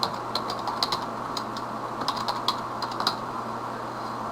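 Someone types on a computer keyboard while entering spreadsheet data, producing close, crisp key clicks in quick irregular bursts over a low steady background hum.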